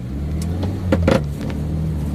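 A Toyota LiteAce truck with a 5K engine drives along, its steady low engine drone continuous throughout, with a couple of brief clunks or rattles in the middle.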